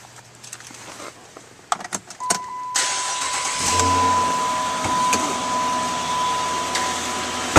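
A 2009 Dodge Charger R/T four-door AWD is started up: a few clicks and key sounds, then the starter cranks and the engine catches, settling into a loud, steady idle close by.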